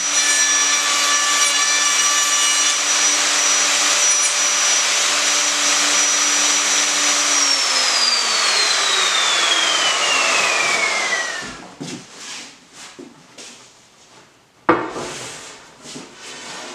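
A wood router cuts a 10 mm groove around a wooden extending tabletop, a loud, steady high whine that winds down and fades after several seconds, followed by faint knocks and shuffling.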